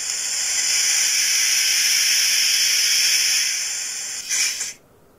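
Steady hiss of steam from a model steam locomotive, a 4F engine, loud and continuous for about four seconds, then a brief louder burst before cutting off into near silence.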